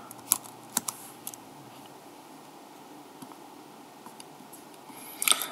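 Light, scattered keystrokes on a computer keyboard, a few isolated clicks early and a quick cluster near the end, close and soft over a steady quiet room hiss.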